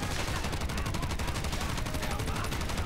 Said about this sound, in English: Alright, stopping right here and firing.